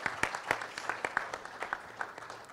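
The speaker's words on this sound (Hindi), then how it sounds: "एक बार जोरदार तालियां प्लीज उनके लिए" Applause at a Bollywood music launch event: scattered, fairly sparse hand claps at a quiet level, with individual claps clearly separated in an uneven rhythm.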